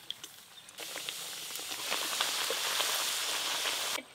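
Nimki snacks fry in a wok of hot oil, a close, steady bubbling sizzle that starts after a moment of quiet with faint clicks, then cuts off abruptly near the end.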